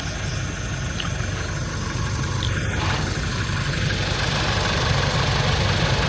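A warmed-up car engine idles steadily and close by before a morning drive to KLIA airport, a constant low rumble with faint vibration holding even throughout.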